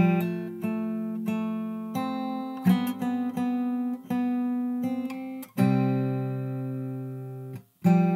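An acoustic guitar picks out the closing bar of a song fingerstyle, clear plucked notes and ringing chords in a steady rhythm, ending on a sustained final chord and a last brief strum, close and without talk.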